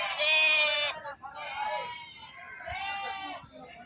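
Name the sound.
sheep bleating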